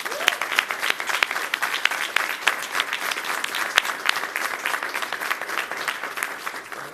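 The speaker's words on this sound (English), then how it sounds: "Let's give them all a big round of applause." A press conference audience gives a big round of applause, sustained and moderately loud, a crackling mass of many hands with sharp individual claps scattered through it, steady for the whole stretch.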